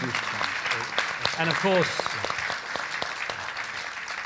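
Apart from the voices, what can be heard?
audience applause for the panel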